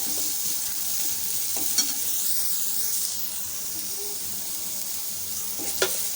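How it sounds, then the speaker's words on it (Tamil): Carrots and beans sauté in a pan with a steady, dense sizzle and hiss, marked by a couple of brief utensil knocks as they are stirred. "கேரட் பீன்ஸ் வந்து கொஞ்சம் வதங்கட்டும்"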